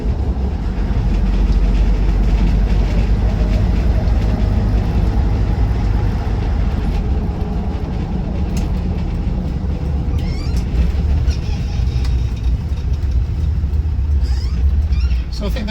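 Land Rover Defender 90 TD5 six-seater diesel driving along, its engine and road noise forming a steady, loud, continuous rumble close to the cabin throughout, with no talk over it.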